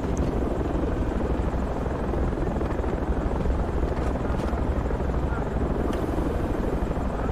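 Helicopter in the video game Project Reality drones loud and close with a constant rotor thrum and dense broadband rumble throughout, broken only by faint clicks.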